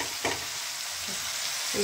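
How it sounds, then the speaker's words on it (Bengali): Spices frying in oil in a pan for a paneer coriander gravy, a soft continuous sizzle with a few brief stirring scrapes, quiet and close. "মশলাগুলো আমার ভাজা হয়ে গেছে।"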